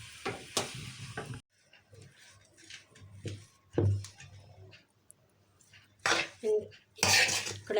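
A kadhai pan taken off the stove after cooking a potato filling, heard as several close metallic clanks and knocks with quieter scraping in between, separated by short pauses.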